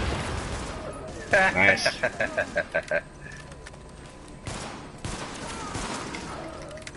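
Gunfire in the video game The Division, a quick rhythmic burst of about eight sharp shots followed by scattered softer impacts, with a brief spoken remark.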